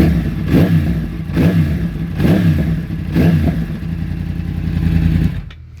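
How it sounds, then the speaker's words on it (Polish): A 2010 Yamaha R1 YZF RN22 sport bike with very loud exhausts revs hard four times in a steady rhythm, each rise and fall close and powerful, before the engine cuts off at the end. "wydechy są bardzo głośne w tym motocyklu"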